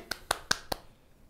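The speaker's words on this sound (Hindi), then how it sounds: "सो ताली उस बात के लिए" Four sharp handclaps in a quick, steady rhythm in a television studio, fairly close and quiet, then fading into silence.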